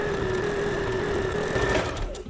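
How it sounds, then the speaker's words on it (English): Sewing machine running steadily as it stitches a half-inch seam in cotton double gauze for a tie-dyed mask, a continuous close whirring hum that stops near the end. "So I kind of start away from the edge, and we sew 1/2 inch seam allowance."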